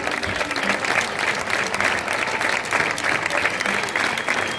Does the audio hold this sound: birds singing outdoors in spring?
no